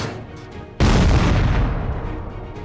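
Munitions dropped by a drone explode on an abandoned Russian T-90 tank: a single loud, deep blast bursts in suddenly, then a long rumbling roar slowly decays, with no voices present.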